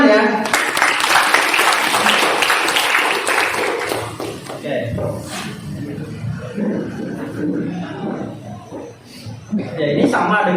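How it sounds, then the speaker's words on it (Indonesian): Audience applause at a personality training seminar, loud sustained clapping from a crowd that fills the clip, with laughter and a voice heard over it. "Oke tepuk tangan ya."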